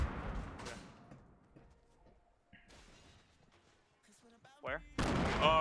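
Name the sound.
grenade explosions and gunfire in a video game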